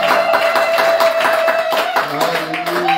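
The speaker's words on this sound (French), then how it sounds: "applaudissez d'abord pour le Seigneur Jésus-Christ" A church congregation at a Sunday service applauds, dense continuous clapping from many hands, loud and close, with a voice and tonal sounds rising under it toward the end.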